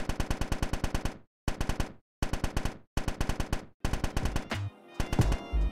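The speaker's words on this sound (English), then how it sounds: "So I searched for some free gun sounds on Google, downloaded the first thing I saw, broke off one of the shots and implemented it into the game" A free downloaded gunshot sound effect for a video game gun fires five quick bursts of rapid, sharp shots separated by short silences. It is crisp and close, and the last bursts trail into a brief rattling echo.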